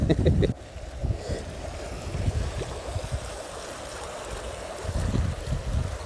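Floodwater rushes through a crossroads in Vallada after a rain and hail storm, a continuous broadband roar of running water with rumbling surges, loud and close throughout.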